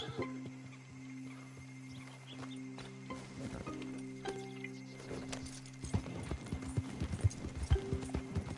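Horse hooves clip-clopping in the video game Red Dead Redemption 2, rhythmic hoofbeats growing busier and louder toward the end over a sustained musical drone, close and clear.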